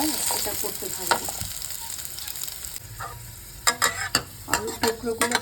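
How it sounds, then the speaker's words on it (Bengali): Potato pieces frying in oil with spices in a home kitchen pan, a steady close sizzle with stirring scrapes, then a run of sharp clattering knocks and spatula scrapes near the end. "আলুর টুকরোগুলো দেখুন হয়ে গেছে ভাজা"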